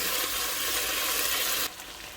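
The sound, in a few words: mushrooms added to the pot, frying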